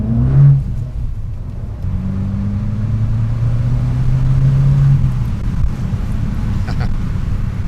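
An Abarth 595 Competizione accelerates on a twisty road, its engine drone climbing in pitch over several seconds under steady wind rumble, heard from inside the car.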